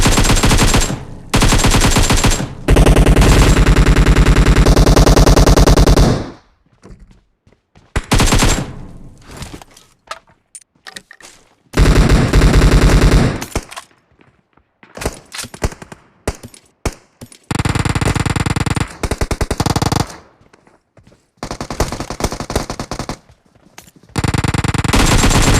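Bursts of UMP submachine gun fire in a PUBG Mobile solo match, loud and close, with long sustained volleys broken by short gaps and scattered single shots, alone without talk.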